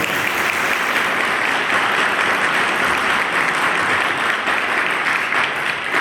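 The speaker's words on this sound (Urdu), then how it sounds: "خداوند کے لیے زوردار تالیاں۔" Loud, dense applause from a church congregation fills the whole stretch, steady and unbroken from start to finish with no voices rising above it.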